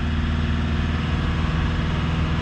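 A Mitsubishi Triton 2.4 turbo diesel engine holds a steady raised idle around 2,500 revs, a continuous close, loud drone with an even low rumble and no change in pitch throughout.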